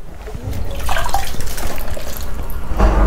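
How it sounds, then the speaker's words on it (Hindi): Water is poured into thick speaker-cabinet coating paint to thin it, a steady trickling and splashing that runs for about three seconds, close by and fairly loud. "अब मैं पानी ले रहा हूं उसमें मिलाने के लिए।"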